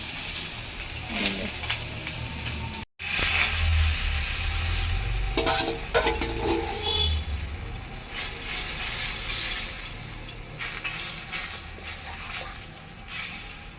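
Egg roti batter ladled into hot oil and spread around the pan sizzles steadily and close up, with occasional scraping and stirring clatter and a brief break partway through; no one speaks.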